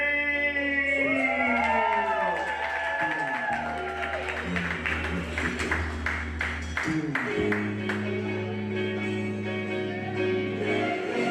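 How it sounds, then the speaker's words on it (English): An open mic night crowd claps and cheers for the next performer, with steady applause, scattered whoops and shouts, while voices and a tonal hum carry through underneath. "Please put your hands together, clap it up, and show some love for Mary Jane."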